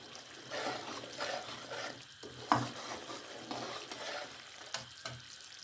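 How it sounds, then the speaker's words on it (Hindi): A spoon keeps stirring melted sugar as it browns over medium heat for traditional Pakistani Makhadi halwa; a soft, bubbling sizzle with light scraping taps, fairly quiet and close, no speech. "लगातार हम चम्मच हिलाते रहेंगे और दरमियानी आंच पे हम इसे पकाएंगे"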